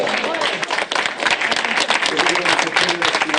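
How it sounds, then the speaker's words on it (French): A full hall of supporters applauds left-wing regional election results, with dense, loud, continuous clapping and crowd noise throughout, and voices mixed into the applause. "c'est une salle entière qui applaudit la gauche victorieuse"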